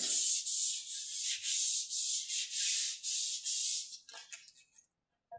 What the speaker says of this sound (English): So I'll finish sanding the parting plate